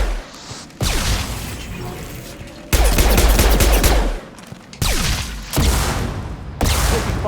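Gunfire from the Mass Effect Legendary Edition video game on PC: loud, dense bursts of rapid automatic shots and sharp impacts, arriving in several separate volleys with brief gaps between them.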